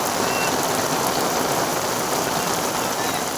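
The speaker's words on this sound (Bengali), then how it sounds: "দেখতে পাচ্ছে দারুণ বৃষ্টি হচ্ছে" Heavy rain pours steadily onto a pond beside a brick kiln during a thunderstorm, a dense, loud, continuous hiss of drops on water with no pause across the clip.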